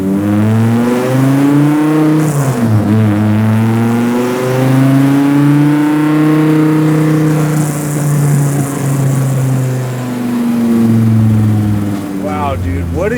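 800HP 9.0L V10 Plymouth hot rod engine revving up close: a loud, throaty harmonic roar whose pitch climbs and drops in repeated sweeps, steady and dominant throughout.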